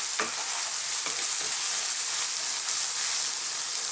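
Canned shrimp mixture for Filipino sipo eggs sizzling in a pan as it is stirred, a steady close frying hiss with a few soft scraping strokes, no talking.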